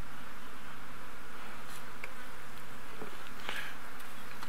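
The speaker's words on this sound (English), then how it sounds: "Oh, look at that swarm of flies." Steady insect buzzing from a swarm of flies around a lion kill carcass lying in open bush on a safari drive, with a constant hum, a few louder passes close by, and occasional faint knocks.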